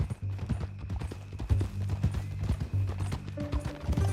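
Horse hooves clip-clop steadily in Red Dead Redemption 2, a close, even rhythm of hoof strikes on a ranch-country trail, mixed with low game ambience and occasional tonal music.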